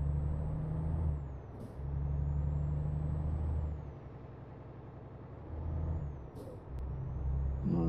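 Truck in Euro Truck Simulator 2, a low engine drone rising and falling with gear changes, with two short hissing air bursts and a faint whistling tone, moderately quiet.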